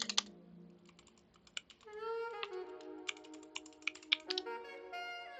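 Typing on a computer keyboard: a steady run of close, crisp key clicks with irregular rhythm, over a faint tonal background.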